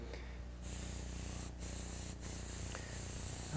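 Airbrush spraying paint across the outsides of painted fingers during a human anatomy portrait demonstration, a steady close hiss that runs almost unbroken, with two brief pauses where the trigger releases.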